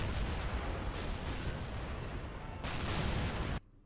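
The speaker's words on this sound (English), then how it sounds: "the insane carnage of all these tanks shooting at each other" Tanks trade fire in a dense battle in the video game Men of War Assault Squad, a German tank line shooting at a prototype factory, with loud overlapping cannon blasts and rumbling explosions in a continuous barrage that cuts off abruptly at the end.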